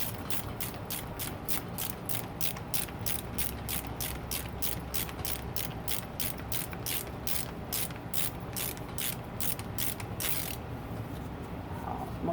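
A Yamaha YZ rear shock spring is turned by hand, giving a steady run of evenly spaced ratchet-like clicks for about ten seconds before stopping.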